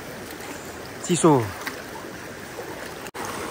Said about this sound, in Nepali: यहाँ खोला छ